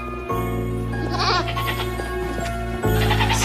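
Goats bleat in a domestic setting, several loud wavering calls over a steady low hum, with a louder burst near the end.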